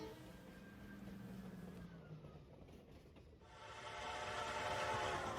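A Reading and Northern RDC passenger train on Pennsylvania track near Tremont and Minersville, a faint horn tone gliding down over rolling rail rumble that then swells louder as the cars come closer.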